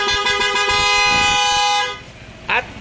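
A car horn honks in one long, loud, continuous blast that cuts off, followed by a brief short toot, with no talk.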